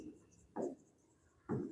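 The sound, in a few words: writing during a lesson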